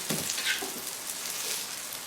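Gyro meat fries in its own rendered fat in a pan, a steady close hiss of sizzling with faint crackles and no voices.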